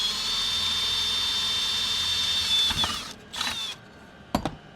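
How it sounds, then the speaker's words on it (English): Power drill boring a pilot hole through a car's floor pan for roll cage pass-throughs: a steady high whine of the spinning bit for nearly three seconds, then short bursts as the trigger is released and squeezed again, close and loud with no talk. "So next we need to drill a hole."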